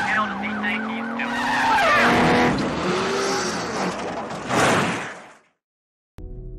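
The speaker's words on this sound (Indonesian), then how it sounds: "Dia bisa dengan mudah mengendarai mobil itu dan membawa Jeffrey kabur dari sana." A car races away with tires squealing loudly, the engine revving and the rubber shrieking for several seconds before it cuts out abruptly.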